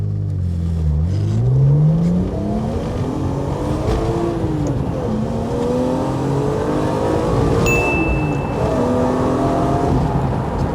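A 25-year-old BMW E36 M3 launches hard from a standstill without a clutch dump, its engine loud and close as it climbs through the revs, with brief dips at the gear changes and a steady pull between them.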